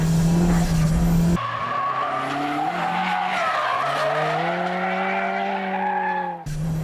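A tuned street car slides sideways on a race track, its tires squealing loudly and continuously in a long rising and falling howl, close by, with engine noise underneath.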